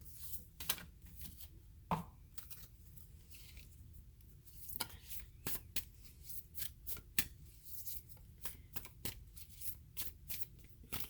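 Affirmation cards being shuffled in a quiet room, a rapid string of crisp riffles and soft slaps recurring over about eleven seconds, close and fairly faint.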